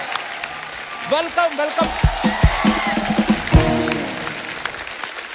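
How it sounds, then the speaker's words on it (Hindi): A studio audience applauds and cheers for actress Tamannaah on a comedy talk show, with the clapping running underneath a voice speaking over it. "जोरदार तालियां एक बार तमन्ना के लिए।"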